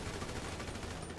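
Rapid gunfire from a firefight in GTA Online: a steady, dense wall of overlapping shots that barely dips, loud and continuous, with no talking.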